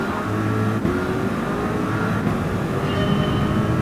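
Corvette Gr.3 race car in Gran Turismo 7 on a high-speed ring, a steady loud engine drone with rising tones as it accelerates, continuous throughout with no talking.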